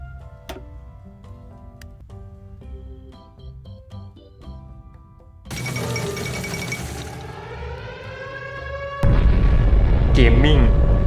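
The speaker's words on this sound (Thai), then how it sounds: "ก็ล่าสุดเราก็เพิ่งระเบิดนิวเคลียร์ใส่มอสโกได้สำเร็จ" A nuclear bomb explodes over Moscow in the strategy video game Hearts of Iron 4, after ticking and music. A loud roaring blast rises and then a heavier deep rumble takes over, with a voice speaking over it.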